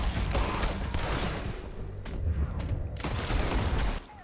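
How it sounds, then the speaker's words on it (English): Gunfire in the video game Red Dead Redemption 2: dense, loud bursts of repeated shots in a firefight, with brief gaps between volleys and then a sudden drop near the end. "Shoot the bastard!"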